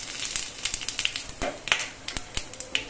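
Halved bay leaf, two dried chillies, whole garam masala and cumin seeds crackling in hot oil for a Bengali wedding-style katla kalia, with sharp irregular pops and spits over a low sizzle.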